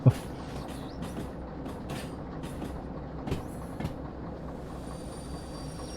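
Rail cars being shunted at a steel mill in a train simulator game, a quiet rumbling drone with a sharp clank at the start and a few scattered knocks and faint squeals, distant and without talking.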